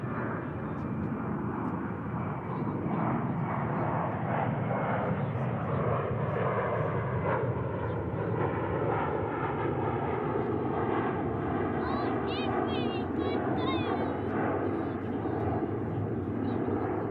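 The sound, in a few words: Airbus A321 airplane at DFW airport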